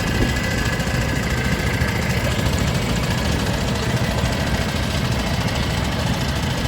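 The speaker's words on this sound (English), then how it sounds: "This one fitted with a petrol engine in it, but a very, very nice example." Petrol engine of a vintage tractor running at a rally, a loud, steady idling rumble with continuous knocking and vibration, close by and with no talk.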